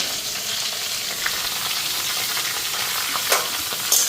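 Green chillies frying in hot oil in a pan, a steady close sizzle with soft crackles and a couple of sharper spits near the end, no voices.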